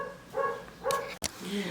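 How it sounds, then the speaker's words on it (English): A dog barks a few times nearby in short, sharp harmonic bursts, spaced about half a second apart, over a low indoor background hum. "sorry about the noise of the dog"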